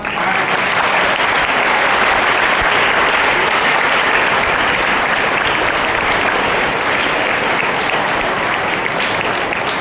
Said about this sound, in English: please give them a big clap